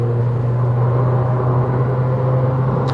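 A Nissan Cube Z11 engine in sport mode drones at steady high revs around 4,500 rpm, a constant humming rumble with no talking.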